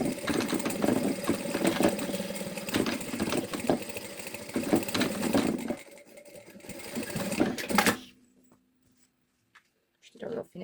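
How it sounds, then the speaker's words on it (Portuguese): A sewing machine stitches over an existing seam on a bag in a fast, continuous whirring run, pauses, whirs again in a short burst, then stops into near silence; talk is heard over the machine. "vamos passar aqui uma costura por cima da costura que já estava feita com o colo"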